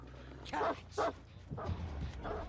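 Dog barks inside the Dead by Daylight video game, about four sharp bursts spaced irregularly over a couple of seconds, fairly loud against a low background hum.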